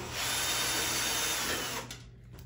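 Power drill set to low torque backing out screws on a 2022 Harvest Right freeze dryer panel, a loud close continuous whir that winds down and stops near the end.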